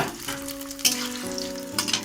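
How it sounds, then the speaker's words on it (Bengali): Onions sizzle steadily in white cooking oil in a wok, a close continuous frying hiss with a few small pops and stirring scrapes, with no talking. "কড়াইতে সাদা তেল দিয়েছি, পেঁয়াজ ভেজে ব্যস্ত করে নেব"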